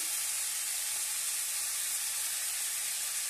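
Chicken pieces salted in a pan sizzle and hiss steadily while being fried for a papaya chicken curry, a continuous close, even crackle with no voices.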